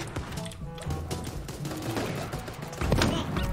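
Rapid, crackling shots ring out in Super Animal Royale amid busy game noise, with a louder blast near the end.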